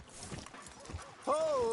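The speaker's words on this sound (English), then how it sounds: "Are you gonna mount that new horse of yours or not?" Horse hooves clip-clop in Red Dead Redemption 2, soft irregular steps under game music, followed by a sustained tonal swell near the end.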